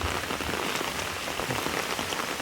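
Rain pouring down outdoors, a dense, even hiss of drops striking surfaces at close range, steady and fairly loud with no voices.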